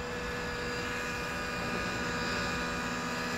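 An Align T-Rex 600N radio-controlled model helicopter flies with a steady, continuous rotor and motor whine and drone, fairly faint and distant, holding level throughout with no talk over it.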